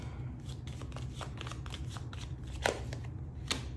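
Tarot cards are shuffled in quick, soft riffling bursts near the microphone, with a couple of sharper snaps near the end and no talking.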